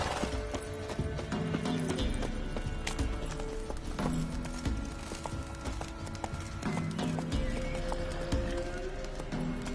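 A galloping horse in The Witcher 3 video game pounds along with rapid, continuous hoofbeats, layered with rattling tack and game ambience in a dense, busy mix.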